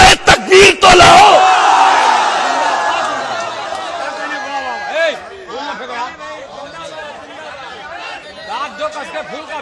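A large audience at an all-India mushaira shouts the takbir slogan in a loud, roaring burst of massed voices, then breaks into scattered cheers and chatter that slowly thin out.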